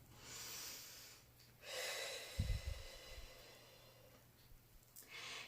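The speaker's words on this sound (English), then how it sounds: "let's take a deep breath in and out" Slow deep breathing during a calming tapping exercise, a long hissing inhale then an audible exhale, close and soft with a brief nasal snort partway through; no talk over it.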